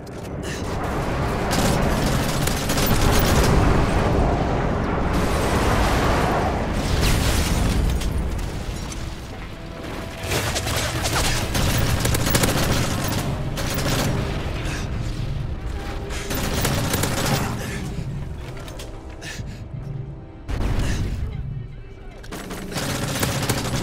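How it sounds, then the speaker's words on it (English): Airstrike explosions and gunfire in the Call of Duty Modern Warfare 3 video game, playing as continuous dense booms and rattling shots throughout, loud and sustained with heavy low rumble, with a game voice over the action. "Friendly airstrike on the way."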